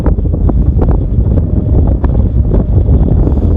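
Strong wind of about 40 km/h buffets an Autel Nano Plus drone in flight, a loud, steady roar of wind noise against the microphone.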